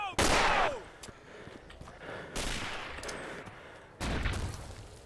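Submachine gun fire in a first-person shooter rings out in three loud bursts spaced a couple of seconds apart, each one sharp and close with a short ringing tail, over quiet background noise.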